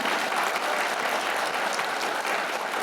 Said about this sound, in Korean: 우리 김종길 의원과 공동 발의해준 우리 김재진 의원님께 뜨거운 박수를 여러분들 한번 좀 보내주시기 바라겠습니다.